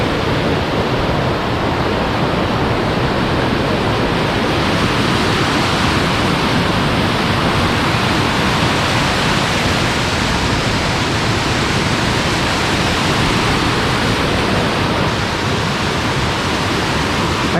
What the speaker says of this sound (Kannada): ಇದೇ ಫಾಲ್ಸ್.